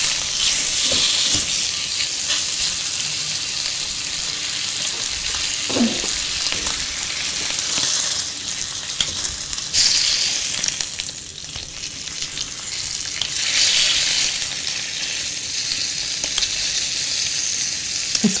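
Fatty pork belly slices sizzle loudly and steadily on a Korean BBQ grill, a dense continuous frying hiss close up with a few faint clicks of tongs or scissors; no voices.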